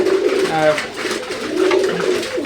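A teddy pigeon coos in low, rolling bursts at a pigeon farm, close and clear, with people talking nearby.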